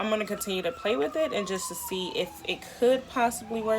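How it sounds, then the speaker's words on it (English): A siren wails in the background, its long gliding tone rising and falling beneath a person talking steadily up close. "Sorry for the sirens in the background."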